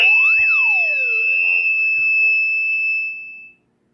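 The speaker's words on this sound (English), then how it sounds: "The alarm button goes off to help locate you." A Retevis RB17P GMRS handheld radio sounds its alarm, a loud, piercing electronic siren tone sweeping up and down over a steady shrill note, close, before cutting off abruptly.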